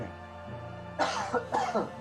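A person gives two close, loud coughs in quick succession, each a harsh burst, after a quiet moment with faint background hum.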